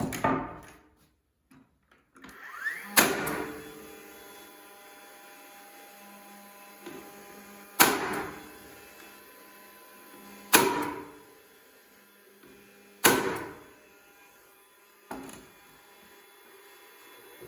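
A hammer drives 2-inch common nails into wooden boards for a marten box, with five or six sharp, close strikes spaced a few seconds apart and quiet pauses between them.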